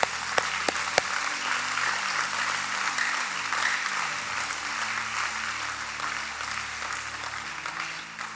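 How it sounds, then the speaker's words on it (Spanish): Church congregation applause during a Spanish-language service at Iglesia Nueva Jerusalén, sustained clapping from many people, broad and steady for over eight seconds, opening with a few sharp distinct claps and a low musical hum underneath. "dele un fuerte aplauso al Señor"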